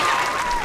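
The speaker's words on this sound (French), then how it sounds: "On applaudit tous les Raptorettes." Applause for a squad of cheerleaders rises from a crowd in a sitcom scene, a steady loud wash of clapping lasting under a second with a faint tone running beneath it.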